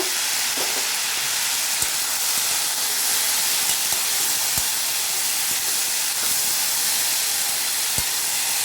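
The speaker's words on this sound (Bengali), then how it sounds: "ফুলকপিটা দিয়ে একটু ভেজে নেব।" Potatoes, tomato and cauliflower fry in a pan for a samosa filling, giving a dense, steady sizzle and hiss with a few sharp clicks of stirring scattered through, close and alone.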